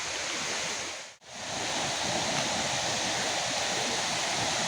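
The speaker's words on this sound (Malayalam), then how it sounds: "നന്നായി വെള്ളം ഈ കനാലിലൂടെ വരുന്നുണ്ട് കേട്ടോ." Water rushes steadily through a canal below Choriyankunnu waterfalls, beside a small bamboo grove. A close, even roar of flowing water fills the scene, broken only by a brief dip in the middle.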